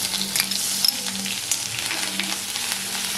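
Ginger hits hot oil in a pan and sizzles loudly and steadily, with crackling pops and faint scraping of stirring, no voice over it.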